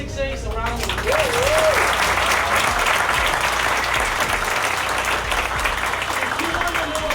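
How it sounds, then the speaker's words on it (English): A room full of people claps loudly and steadily for recognized top earners at a business seminar. Dense, sustained applause runs the full length, with a faint whistle-like tone near the start and end. "let's give all of those 6As a round of applause."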